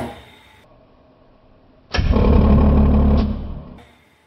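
An electric motor, strained toward overload at a high setting, surges on abruptly and runs loud and steady for nearly two seconds before cutting off, with a different, rougher tone than normal, preceded and followed by a quiet low hum.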